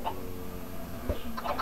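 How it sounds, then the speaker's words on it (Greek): A chicken clucking in Minecraft, a few short, low-level calls over a quiet game background. "Ένα κοτόπουλο."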